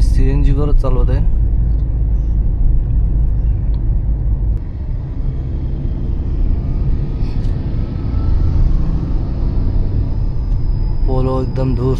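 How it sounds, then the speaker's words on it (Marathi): A CNG-fuelled Hyundai i10 cruising along the old Pune highway near Khopoli, steady low engine and road rumble from inside the cabin throughout, with someone talking over it. "गाडी मी CNG वरच चालवत आहे"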